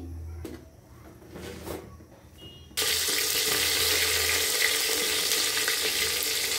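Potatoes and onions frying in a pan for a cauliflower curry, starting with quiet knocks and stirring, then a loud, steady sizzle suddenly filling the rest as the food cooks, close and continuous.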